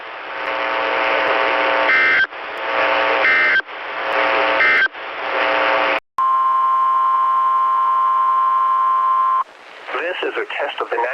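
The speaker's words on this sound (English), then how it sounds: "This is a test of the National Weather Service's radio warning tone alarm" A NOAA Weather Radio warning tone alarm test: four harsh buzzing bursts in quick succession, then a long, steady, piercing tone held for about three seconds, followed by a voice starting to speak.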